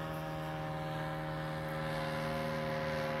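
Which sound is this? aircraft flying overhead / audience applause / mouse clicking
aircraft flying overhead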